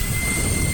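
A Sabrent BLOWzer X6 jet-powered air duster blows a steady, loud rush of air, a continuous whooshing roar with a fine high whine, held without a break from start to finish.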